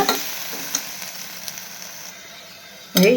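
Ginger garlic paste fries in a pan for a country chicken pepper masala, giving a continuous close sizzle with light stirring ticks and a sharp burst of spatter at the very end; no one speaks.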